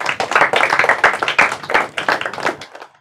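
An audience at a Marathi quiz show claps for a competing quiz team, a brisk burst of close applause lasting under three seconds.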